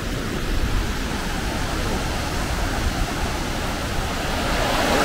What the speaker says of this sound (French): 110 mètres en bas des cascades.